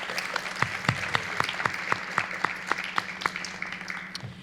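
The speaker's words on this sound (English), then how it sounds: "So let's give your families a big round of applause." Audience applauding families at a National Honor Society induction ceremony in an indoor hall, sparse but steady clapping with distinct individual claps over a low hum.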